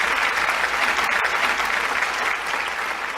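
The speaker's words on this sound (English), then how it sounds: "So let's give them a round of applause for tonight." A theatre audience at a community charity show applauds, a dense, loud, sustained wash of clapping that holds steady without pause throughout.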